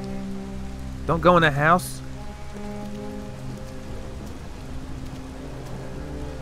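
Rain falls steadily in the video game Detroit: Become Human, a soft continuous patter under a low ambient drone, while a character speaks briefly near the start.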